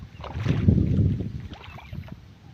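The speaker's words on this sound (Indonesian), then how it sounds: "Kok sapa iki nggo perahu ya." A small boat moving through floodwater, with a swelling swish and churn that peaks and then fades, followed by light splashes and ripples.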